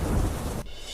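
Heavy monsoon downpour with a deep thunder rumble over the villages around Shihori in Kankrej, Banaskantha. A dense, loud roar fills the first half-second, then cuts off to a thinner hiss.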